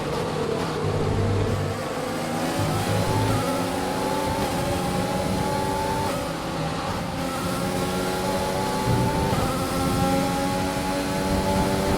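Formula One car engines from the F1 2020 racing game, driving a Jordan team car at a race start, a steady loud buzzing whine with the pitch rising and falling through gear changes, held without a break.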